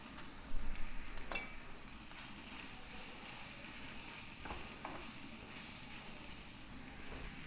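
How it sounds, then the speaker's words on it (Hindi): Grated carrots frying in oil in a pan, giving a steady soft sizzle with occasional stirring scrapes, close and continuous without any talk. "ये गाजर मैंने कद्दूकश की हुई है या कट कर लें आप बारीक, इसको हमने इसके अंदर फ्राई कर लेना है"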